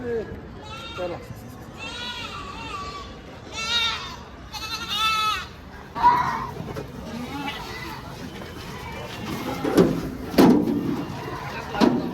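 Several goats bleat repeatedly, some near and some farther off, amid a busy livestock market crowd with people talking and occasional thuds.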